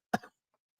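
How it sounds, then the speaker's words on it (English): A single short, sharp cough close to the microphone, followed by silence. "Ooh, that cough."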